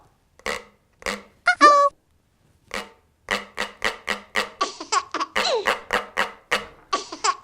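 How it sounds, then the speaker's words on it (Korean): Plastic drink bottle struck and scraped as a percussion instrument, a series of hollow crinkly knocks that speed into a quick, bright rhythmic run, close and dry. "이번에는 페트병이에요. 음료수를 먹고 나는 페트병에선 어떤 소리가 날까요?"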